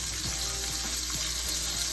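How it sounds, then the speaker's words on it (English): Chicken sizzling in a hot pan as olive oil is drizzled over it, a loud, continuous crackling fry with small pops and soft stirring scrapes, close up and without talk. "And we're just going to drizzle it over the top of the chicken. You're going to hear it just sizzle up."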